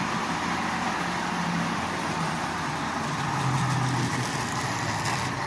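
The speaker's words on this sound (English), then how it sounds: "that's actually quite impressive for just a motor with" A restored Marx diesel toy train motor runs bare without its shell, giving a steady close buzzing whir that holds constant, with no speech.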